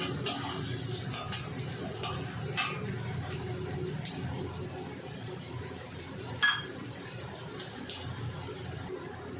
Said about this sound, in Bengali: গ্যাসের ফ্লেমটা বাড়িয়ে দিয়ে ভালো করে পেঁয়াজটা ভেজে নিতে হবে